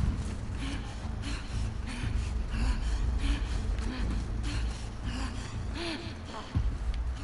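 Heavy, ragged breathing from Ellie in The Last of Us Part II, repeated gasps and huffs sitting inside a dense, steady game soundscape with a low rumble throughout.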